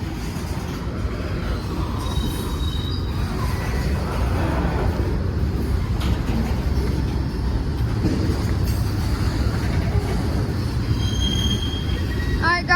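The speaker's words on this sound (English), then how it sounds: "Never seen that much graffiti on a tanker car." A freight train of graffiti-covered tanker cars rolls past nearby, producing a steady rumble of wheels on rails with intermittent squeals and clanks throughout.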